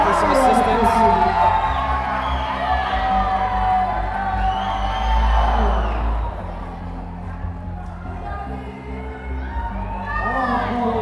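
A crowd at a USA Climbing competition cheers, whoops and shouts almost continuously, loud and close. Children's yells rise above it, and swells of excitement come and go while a voice calls out over the noise.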